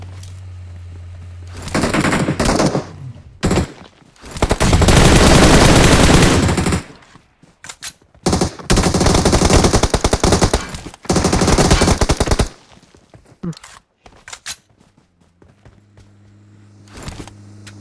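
Bursts of P90 submachine gun fire in a shooter video game: several loud, dense volleys of rapid shots over about twelve seconds, separated by short pauses, with quieter game ambience before and after.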